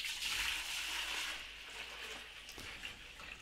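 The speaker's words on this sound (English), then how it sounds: "I poured the old antifreeze into a jug" Old antifreeze from a Dacia Sandero's Renault D4F engine pours into a jug with a soft, steady liquid gurgle and hiss that eases off after the first second, fairly quiet and close, with no talking.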